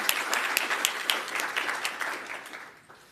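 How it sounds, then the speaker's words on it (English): Audience applause at a debate society session, a steady patter of clapping that fades toward the end. "Another just a round of applause."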